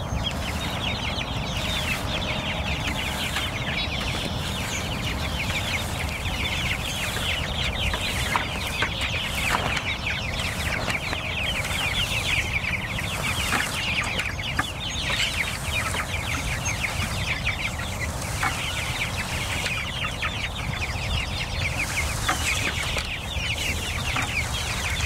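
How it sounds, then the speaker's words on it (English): Many chickens cluck and murmur continuously nearby in a small movable pasture coop, a busy overlapping chorus of soft calls with occasional sharper squawks, no talking. "here next to me is the small movable chicken coop called a chicken tractor"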